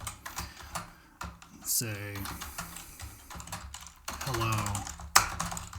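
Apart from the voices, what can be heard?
typing on a computer keyboard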